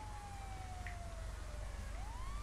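A police car siren in Grand Theft Auto Online wails with a slowly falling then rising tone, moderately loud above a steady roar of game engine and street noise, with no talk.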